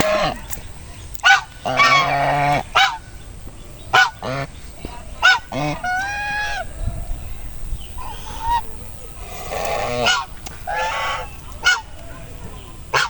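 Geese honk repeatedly in a village yard, loud nasal calls coming in bursts close by, some overlapping, with brief pauses between them.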